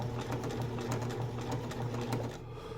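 Sewing machine stitching a curved applique on a shield cover, running at a steady moderate pace with a continuous close mechanical hum and rapid needle ticking, alone without talk.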